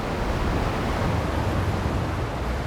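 Ocean waves break against rocks on the Sokcho coast in a steady, dense roar of surf, loud and continuous with no distinct individual crashes and no voices.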